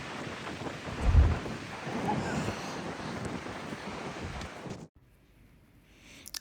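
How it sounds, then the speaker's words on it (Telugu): Broad roaring surf on a Dutch beach in winter, a steady wash of breaking waves with wind noise for about five seconds before cutting to near silence. "మీకు కనిపిస్తుంది అసలు వేవ్స్ ఎట్లా వస్తున్నాయో."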